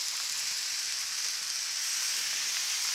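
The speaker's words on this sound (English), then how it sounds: "Oh man, hear that sizzle" Steady, bright sizzling of bacon frying on a hot Blackstone griddle, continuous and fairly close, with no voices.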